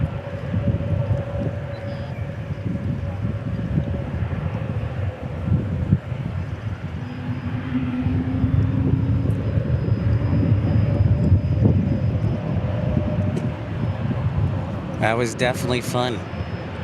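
A Frontier airliner takes off at Dallas Fort Worth Airport, its engines a broad, steady roar that builds and holds near throughout, with someone talking over it.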